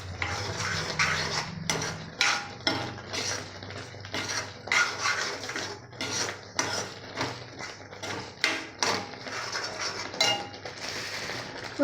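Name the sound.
stirring ginger pickle mixture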